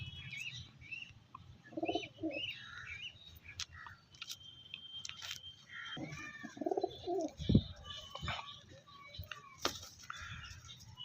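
Pigeons of the Arshad line at a pigeon sale coo softly and intermittently, low throaty calls near and faint with scattered small clicks and rustles around them.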